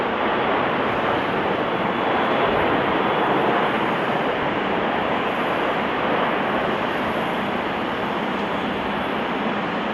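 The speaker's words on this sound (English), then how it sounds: "This Airbus A330 landing too fast due to a flaps issue" An Airbus A330 airliner comes in to land too fast with no flaps set, heard as a steady, loud broadband roar of jet engines and rushing air that holds for the full stretch with no talking.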